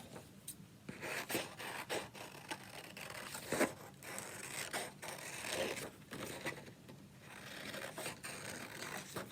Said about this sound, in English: Now I'm going to cut out the wheel.